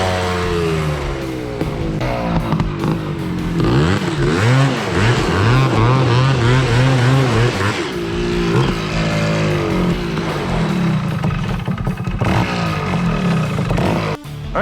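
ATC 250R and Tri-Z three-wheeler engines warming up together, revving loudly and close by in rising and falling sweeps with no break for the whole stretch.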